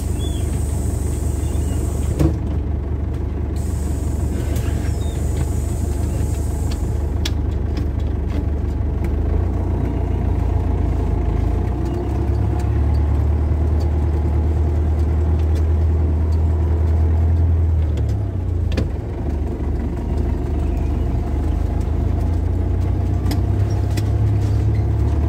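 A vehicle on a road in the dark near a dump truck, a steady loud engine drone and road rumble filling the whole stretch, with occasional faint clicks and no voices.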